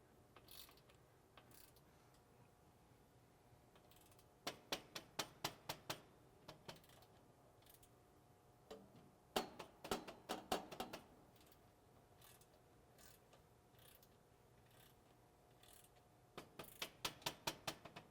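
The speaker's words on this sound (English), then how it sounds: "we'll do that a couple times as we start approaching our final torque." A ratchet tightens a V-band clamp on a duct flange, making rapid clicking runs in several bursts separated by quiet gaps, close and fairly soft.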